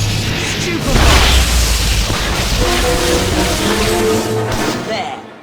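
A Stupefy spell cast in the PC game Harry Potter and the Half-Blood Prince lands as a loud, booming magical burst over a low game soundtrack. A voice shouts during the cast.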